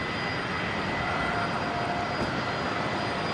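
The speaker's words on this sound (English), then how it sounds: "The 777-300 ER coming in from Qatar, of course, from Doha." A Qatar Airways Boeing 777-300ER heavy jet arriving from Doha to land at Brisbane Airport produces a steady, broad engine roar with a faint whine on top, continuous and moderately distant.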